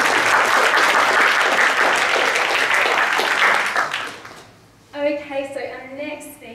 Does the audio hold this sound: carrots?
no